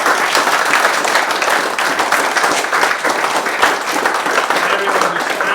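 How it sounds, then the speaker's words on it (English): Audience applause at an evening reading and singing celebration, a loud dense steady clatter of many hands clapping continuously from start to finish. "let's have a round of applause for everyone who's read for us"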